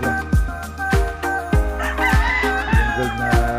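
Gamefowl rooster crowing at a farm amid other chickens, with a drawn-out crow rising over repeated clucks and sharp thumping pulses in a close, busy coop.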